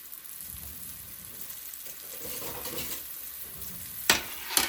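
Beef strips for broccoli beef fry in hot oil on a stove turned down to medium, giving a steady soft sizzle. Two sharp hissing bursts flare near the end.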